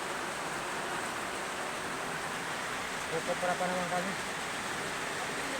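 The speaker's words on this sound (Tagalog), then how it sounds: "Sabing lakas ng ulan to" Heavy rain pours steadily in a rural Philippine copra-farming setting, a dense even hiss throughout, with brief voices talking partway through.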